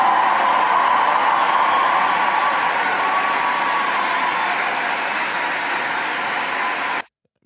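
Audience giving a standing ovation, dense sustained clapping from a large crowd that holds steady for about seven seconds and then cuts off abruptly.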